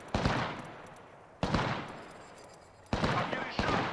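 Gunfire rakes the player in an Apex Legends-style shooter, three bursts of rapid close shots, each sharp onset trailing off before the next volley.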